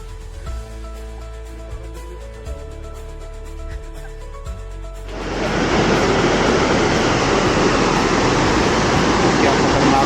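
Glacier meltwater stream rushing loudly on a Himalayan trek, a powerful broad roar of water that starts abruptly halfway through and stays steady and close, after a quieter stretch with tonal sounds.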